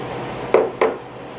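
Oats are tipped into a bowl for apple oat bites, marked by two sharp clinks of a utensil against the dish in quick succession, then quiet.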